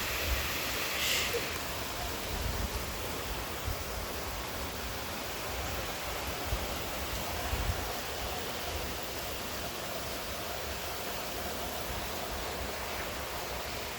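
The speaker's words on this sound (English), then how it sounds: "Oh, thunderstorms." Heavy rain in a thunderstorm with wind, a constant dense roar of downpour filling the scene, close and steady throughout with no clear thunderclap.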